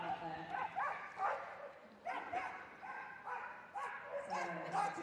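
A dog at the Crufts 2025 dog show barks and yips repeatedly in uneven bursts at moderate distance, with excited, whiny tones between barks.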